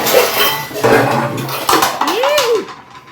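Metal pots and lids clatter and clink as someone rummages through a home kitchen, a few loud bangs and scrapes over a little under three seconds, with a voice briefly audible.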